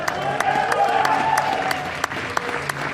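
Audience applause at a live fashion show during a monster-movie screening event, a steady wash of clapping with sharp individual claps popping through, fairly close and continuous for a few seconds.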